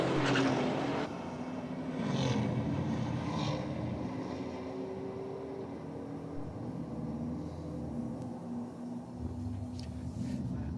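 Drag racing cars at a strip, a sustained loud engine roar throughout with a brief louder burst at the start, heard from a distance with wind noise over the microphone.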